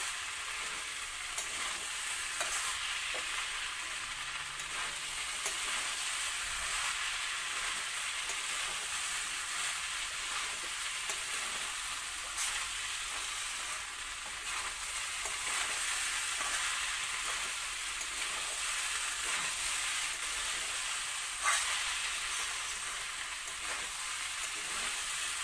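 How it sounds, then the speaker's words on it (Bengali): Spice paste for Bengali masala khichuri sizzles steadily in oil while being stirred, a dense continuous frying hiss with occasional scrapes of a spoon, close and alone with no voices. "তো কিছুক্ষণ আমি লাড়বো ওটা"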